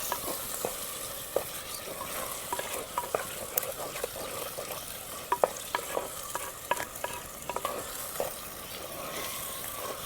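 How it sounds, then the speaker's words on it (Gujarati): Green brinjal oro, a roasted eggplant mash, is stirred and mixed in a hot pan, giving a dense run of quick scraping clicks over a low, steady sizzle, close and fairly soft. "હવે અંદર હલાવી નાખશું, મિક્સ કરી લઈશું"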